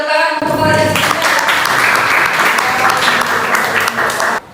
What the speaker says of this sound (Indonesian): Berikan tepuk tangan untuk Alia Sabrina.